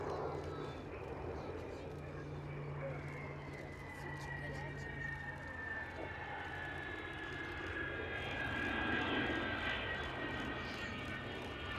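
Avro Vulcan jet bomber at its final air display, a loud sustained jet engine roar with slowly shifting whine, steady and close throughout with crowd noise around.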